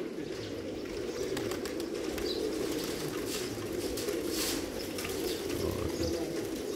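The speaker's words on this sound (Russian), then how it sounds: "Голуби бесятся, перелетают туда-сюда" Crowd of double-crested pigeons in a loft, a steady dense hubbub of cooing and rustling as birds flutter back and forth, close and continuous with no talking.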